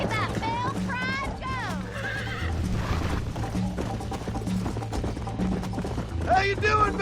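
A horse in the video game Red Dead Redemption gallops with a steady, rapid clip-clop of hooves and snorts and whinnies now and then. The hoofbeats sit close under game music and talk, and a loud neigh rises near the end.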